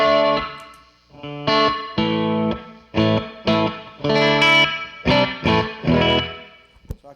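Electric guitar run through a Meris Mercury X reverb pedal, set for worship tones with modulation and delay. A series of loud, bright strummed chords and picked phrases rings alone, each with a reverberant tail between strikes.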